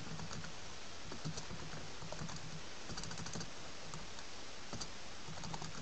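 Fingers tap steadily on a computer keyboard in a quiet room, a run of light, close keystroke clicks with no talking.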